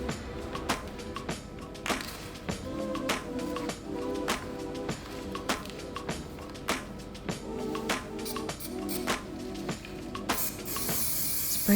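Short hissing bursts from a spray paint can, spaced at an uneven rhythm, as paint is sprayed over stencils. The bursts are close and clear, with no talking.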